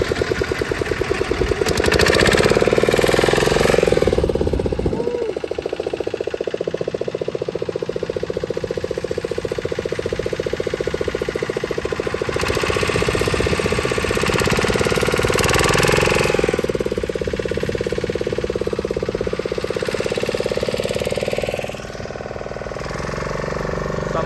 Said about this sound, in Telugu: boat start